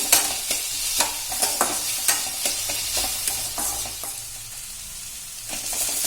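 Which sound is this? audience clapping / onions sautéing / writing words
onions sautéing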